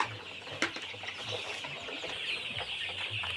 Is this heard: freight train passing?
no